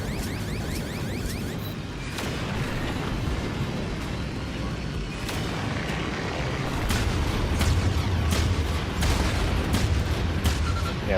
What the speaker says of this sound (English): Yeah, this cannon locks on way better.